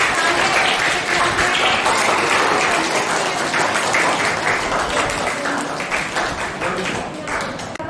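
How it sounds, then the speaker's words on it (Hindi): Enthusiastic group clapping from participants at a Brahma Kumaris summer camp, dense and fairly close, steady for several seconds and thinning slightly toward the end. "सभी एक बार जोरदार तालियां बजाइए।"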